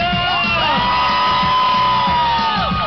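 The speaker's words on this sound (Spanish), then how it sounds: "Eso, un grito para Mónica." A crowd at a dance celebration shouts and whoops together for a dancer named Mónica, with long sustained voices rising and falling, loud and close, and no one else talking over them.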